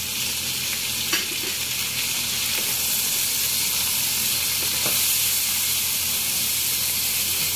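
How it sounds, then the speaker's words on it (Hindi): Okra frying in a pan gives a loud, continuous sizzle and hiss as a tomato and spice paste is added and stirred in, with occasional scraping clinks over the steady frying. "हमारी भिंडियाँ बिल्कुल फ्राई हैं। अब हम इसके अंदर शामिल करेंगे ये मसाला, ये पेस्ट जो हमने टमाटर और बाकी मसाले डाल के बनाया था।"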